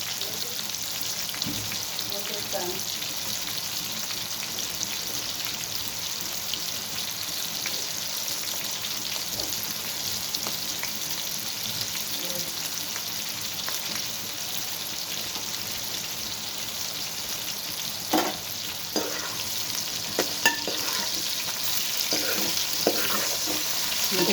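Continuous close sizzling of bitter gourd frying in oil, a constant crackling hiss with occasional spatula scrapes, growing slightly louder toward the end.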